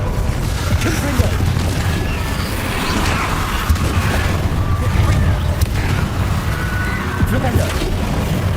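A Confringo fire spell from Hogwarts Legacy sets off a loud, rumbling explosion amid continuous battle noise, with deep booms and sharp bursts running through the whole stretch and voices shouting spells over the chaos.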